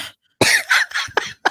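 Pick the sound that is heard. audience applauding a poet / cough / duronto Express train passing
cough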